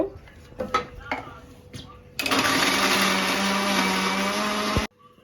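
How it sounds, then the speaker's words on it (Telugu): A mixer grinder roars loudly and steadily for about two and a half seconds, grinding coriander seeds, cumin, fenugreek and garlic into powder for a fish curry, then stops abruptly; quieter kitchen clatter comes before it. "ధనియాలు జీలకర్ర మెంతులు ఎల్లిపాయలు వేసి ఇట్లా పొడిగొట్టుకున్నాను అనమాట"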